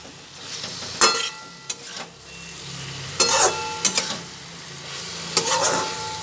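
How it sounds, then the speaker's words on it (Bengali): Chhana and potato are stir-fried with spices in a pan, a soft sizzle running underneath while a spatula scrapes and knocks against the metal in short, irregular bursts. "ছানা আর আলু একসঙ্গে মিশিয়ে সব মশলা দিয়ে এবার ভালোভাবে এটা কষিয়ে নেব।"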